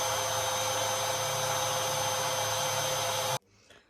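A hair dryer blows steadily and loudly while drying hair, a constant whooshing roar with a faint whine that cuts off abruptly near the end, leaving a quiet room with a brief soft rustle.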